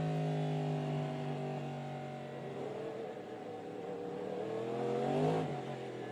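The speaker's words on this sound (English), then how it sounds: "Jaminet and Aiken come across the wreckage from the 25 BMW and slowly make their way through as the field is once again under safety car condition." IMSA GTP prototype race cars at Road America crawl past wreckage under safety car conditions, their engines droning steadily at low revs with a gentle swell in pitch near the end, close and continuous without talk.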